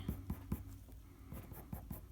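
Soft, light shading strokes of a red colored pencil on paper, a series of quick rhythmic scratches close up and faint, in bursts with brief pauses between them.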